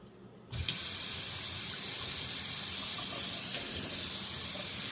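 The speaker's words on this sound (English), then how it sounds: "I'm just going to wash down here the bulb and get it clean." Tap water runs steadily into a sink as beet greens and the beet bulb are washed, starting abruptly after a brief quiet moment, then a continuous close hiss and splash.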